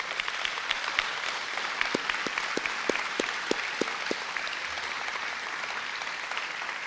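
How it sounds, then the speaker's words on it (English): A graduation audience claps steadily in a large venue, giving dense, continuous applause throughout with a few sharper individual claps standing out. "I would like for you to do a round of applause for all of the people that have supported you"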